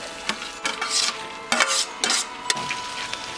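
Pumpkin seeds tossed into a saucepan of melted butter make a few sharp scraping and clattering stirs with a soft sizzle underneath, close up in a kitchen, with no talking.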